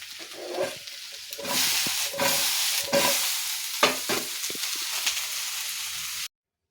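Washed dates are warmed and stirred in a pan to dry them, giving a close scraping and rustling stir over a light sizzle that cuts off abruptly.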